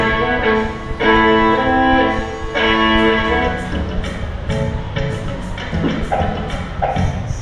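A bowed string melody played in flowing, sustained phrases, with notes shifting smoothly over soft accompaniment, no voices.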